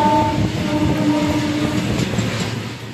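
A Jhajha local passenger train runs on rails, a loud, steady rumble close at hand with faint wheel clatter and tonal squeals throughout, no voices.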